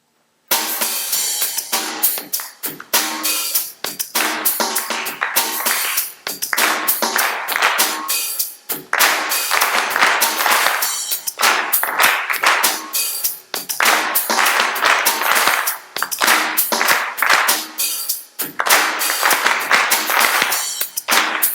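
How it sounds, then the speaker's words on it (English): Hands clapping in time with a backing track during a trumpet lesson, sharp regular claps repeating steadily over music for about twenty seconds. "Clap it with conviction, as if you were a drum."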